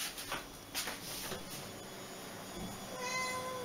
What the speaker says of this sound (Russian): кошка мяукает